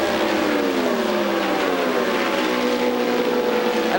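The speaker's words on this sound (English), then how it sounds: "you can hear that stutter step out of some of the motors. That's guys running into that rev limiter" IndyCar race car engines at the 1999 Indianapolis 500 scream past with falling pitch sweeps and a stuttering note as they hit the rev limiter, loud and continuous with no talk.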